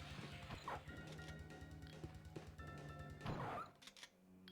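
A dog barking in the Resident Evil video game on SEGA Saturn, a few sharp barks and thuds among game sounds, faint and somewhat distant, with no speech.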